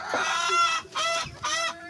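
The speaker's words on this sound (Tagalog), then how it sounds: "Sobrang ingay po ng mga manok." Backyard chickens cluck loudly and close by in a few quick bursts, their calls overlapping in a rhythmic series with short pauses between them.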